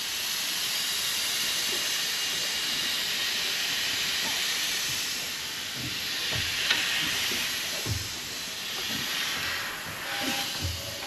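Stork & Hengelo compound steam engine in an engine room, run on compressed air instead of steam: a steady loud airy hiss throughout, with soft rhythmic thumps and chuffs emerging in the latter half as the flywheel turns over.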